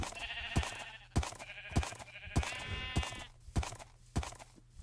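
Sheep in a survival video game bleating repeatedly, with wavering bleats recurring roughly every half second to second, mixed with sharp thumping footstep-like hits; no talking.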